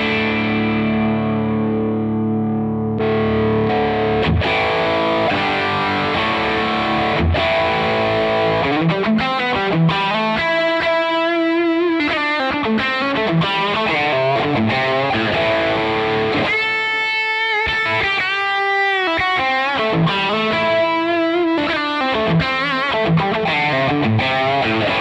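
Electric guitar played through a UAFX Del-Verb delay and reverb pedal, with distorted chords and single-note lines trailing into repeating echoes and washy reverb tails, loud and continuous with no talking.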